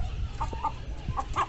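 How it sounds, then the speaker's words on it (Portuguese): A hen on a small farm clucks in short, bright bursts, four or five calls spaced unevenly over a low, steady background rumble, fairly close. "Eu gosto de escutar o canto da galinha quando ela bota."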